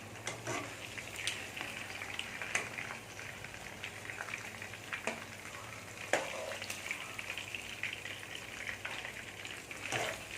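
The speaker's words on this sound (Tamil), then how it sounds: "சிக்கன் நல்லா ஃப்ரை ஆகிடுச்சு பாருங்கள்" Chicken shallow frying in oil in a pan gives a steady soft sizzle with scattered crackles and pops, moderately quiet and continuous with no voices.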